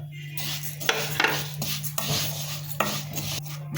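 Vermicelli roasting in ghee in a pan for semiya sago payasam, a soft continuous sizzle with scraping stirs and several sharp utensil knocks against the pan.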